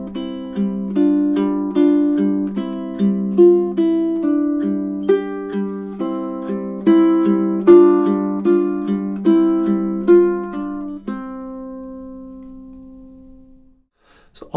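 A classical ukulele etude, Danse Paysanne, is plucked through a whole section mixing double stops and bass notes, the phrases repeating with two tone colours, steady and close, ending on a ringing note that fades out.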